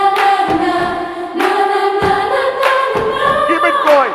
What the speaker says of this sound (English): Put your hands together now. With a clap.